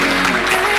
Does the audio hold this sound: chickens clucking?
no